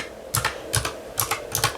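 Four quick bursts of computer keyboard typing, close and crisp, are evenly spaced with short pauses between them. No talking is heard.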